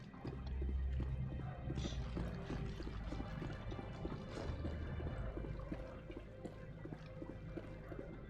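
A waterfall in a rock garden in the video game Mass Effect pours steadily at moderate distance, with soft rhythmic splashing and dripping over a continuous low wash.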